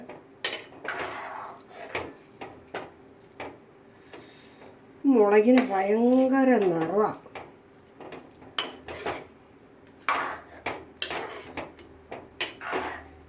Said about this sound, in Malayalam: ഇളക്കിയിടുകയാണ്